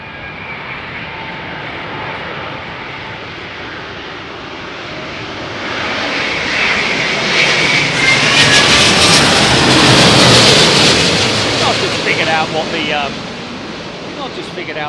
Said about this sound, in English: that sounded very much like a Dreamliner on approach